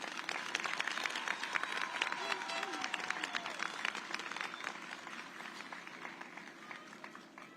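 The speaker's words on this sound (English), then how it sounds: "Let's give a round of applause for all of our families and loved ones that have supported us in this journey." A graduation audience of families and loved ones applauds at the La Sierra High School 2025 ceremony: steady, dense clapping with scattered cheers and voices, fairly distant and sustained throughout before easing slightly at the end.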